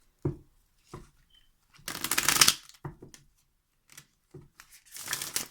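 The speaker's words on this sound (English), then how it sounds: "I'm going to shuffle a little more." Tarot cards shuffled by hand in several short bursts, quiet riffles and soft slaps with brief pauses between, two longer riffling runs standing out close to the microphone.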